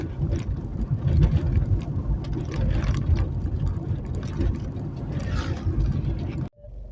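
A car drives along a road into town with a steady low engine and road rumble. It rises and falls slightly for several seconds, then cuts off abruptly near the end.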